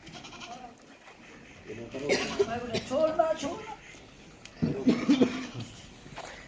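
Goats bleat at a goat farm in loud, wavering cries close by, two main calls separated by a pause, with someone talking over the background noise.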